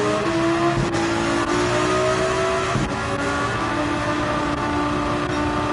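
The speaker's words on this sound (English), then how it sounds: "Listen to that tearing sound." Gran Turismo 7 Alfa Romeo race car at the Nürburgring Nordschleife tearing along with a gnarly, harsh engine howl, revs rising and dipping around brief gear-change blips, loud and close throughout.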